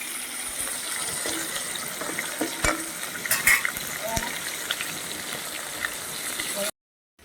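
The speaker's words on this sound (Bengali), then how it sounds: "এত বড় বড় কই মাছগুলো একটু ভালো করে ভেজে নিই।" Large live koi fish frying in a wok for a potato and cauliflower curry, a steady close sizzle with occasional stirring scrapes running throughout before cutting out near the end.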